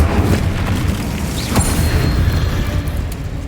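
In Hogwarts Legacy, an Incendio fire spell erupts in a loud, sustained booming whoosh of flame with a brief sharp flare in the middle, dense game noise throughout and no speech.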